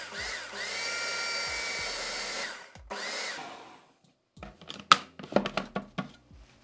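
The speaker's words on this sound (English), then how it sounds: "that can go into the food processor as well. So we're just going to combine it with the flour. Again, just pulsing." Food processor pulsing soaked psyllium, chia and flour for gluten-free vegan bagel dough: two loud motor bursts of a few seconds each, then a pause and a run of short, sharp pulses, close up with no talking.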